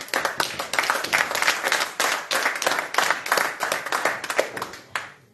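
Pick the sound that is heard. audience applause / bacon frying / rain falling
audience applause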